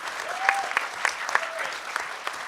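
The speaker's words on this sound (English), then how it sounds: "let's give a huge round of applause to all these panelists for staying under 2 minutes largely" Audience at a hacker conference panel clapping, a short burst of moderate applause from a small crowd with a faint tonal whistle running beneath it.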